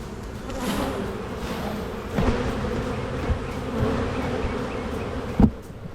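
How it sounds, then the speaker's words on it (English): A busy, continuous buzz of honeybees around an open hive during an April inspection, foragers swirling close to the microphone with occasional louder fly-bys and a soft knock near the end. "there's enough foraging bees out right now"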